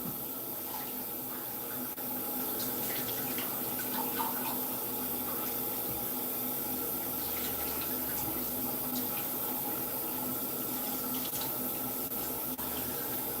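Tap water running steadily into a sink to rinse and wash a dish, a constant close splashing stream that continues without a break for over thirteen seconds, with no talk.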